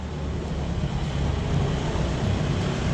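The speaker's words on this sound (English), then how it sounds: "If you hear the car next to me" A car passes close by on a narrow street in Jerusalem's Armenian Quarter, a steady broad engine and road rush that swells slightly as it nears, with no talk.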